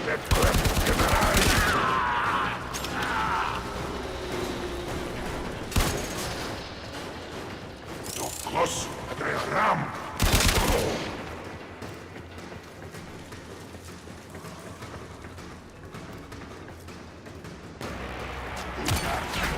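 Gunfire in Warframe as enemies are shot, rapid automatic bursts and sharp impacts clustered early and at a few later moments, loud, with game sounds and occasional talk around them.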